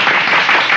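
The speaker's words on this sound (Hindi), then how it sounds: "बजाओ ताली" Hand clapping at the close of a match in the mobile game Apex Legends, a short dense burst of claps lasting under a second, loud and close with no talk over it.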